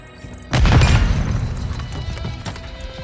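A Semtex grenade detonates in Call of Duty MW3, one heavy, deep boom arriving after a brief quiet lead-in, then a long rumbling decay with scattered debris and a fainter crack near the end.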